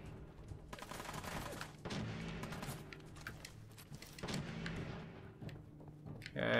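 A weapon fires in Fallout 4 in a dense, rapid series of shots and thuds. The bursts are moderately loud, overlap with other combat noise and end in a sharper burst.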